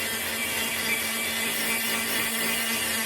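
A Foredom rotary tool grinds into wood while carving a small lazuli bunting bird, a steady close high-pitched whine with a faint low hum underneath, continuous and unbroken, no talking.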